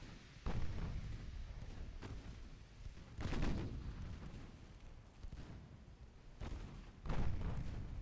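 Warship guns fire in the naval game Ultimate Admiral: Dreadnoughts: five or six heavy booms land at irregular intervals, each trailing off into a rumbling roar, with no voices.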